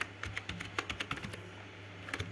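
Quick, light key taps on a computer keyboard as an email address is typed, an uneven run of close, soft clicks with no talking.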